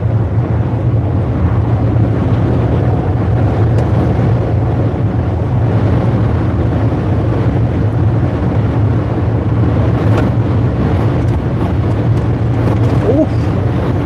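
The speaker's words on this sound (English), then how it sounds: "I don't know if you can hear it, but it's very noisy, windy now." Loud, strong wind buffets the microphone inside a truck near the England–Scotland border at sunrise, with a continuous low roar and rumble throughout.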